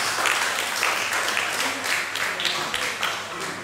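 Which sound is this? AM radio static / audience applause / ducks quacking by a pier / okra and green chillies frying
audience applause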